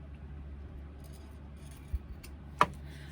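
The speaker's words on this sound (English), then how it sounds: "Now what you do is trim those corners. Trim close to the stitching but not on the stitching" Scissors snip the corners of a sewn fabric pouch close to the stitching, giving two brief, quiet cuts against a soft, low background hum.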